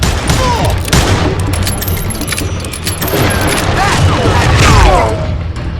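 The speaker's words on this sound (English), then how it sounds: "You can shoot, but can you aim?" Gunfire and explosions from the Western shooter game Call of Juarez, loud close shots and booms mixed with clattering effects, with a character's voice over the action.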